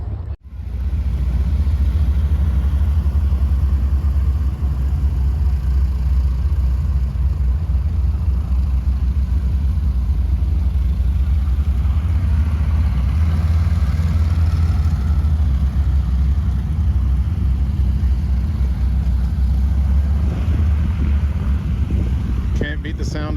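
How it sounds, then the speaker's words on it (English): A loud, steady radial aircraft engine roar with broad rumbling noise holds for over twenty seconds at the EAA AirVenture Oshkosh airshow, mixed with wind buffeting, no voices heard. "Can't beat the sound of a radial engine."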